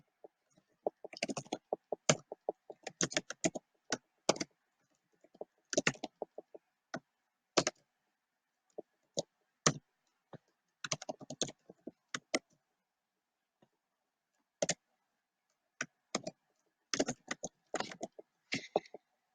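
Keys clatter on a computer keyboard as column names are typed into a BigQuery table schema, in quiet, close, irregular bursts of clicks separated by pauses, with no talking.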